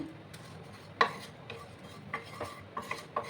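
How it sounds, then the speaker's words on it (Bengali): Fennel seeds and panch phoron dry roasting in a pan over low gas, heard as faint scattered ticks and light scraping stirs against the metal. "দিয়ে এটাকে আমি ড্রাই রোস্ট করে নেব"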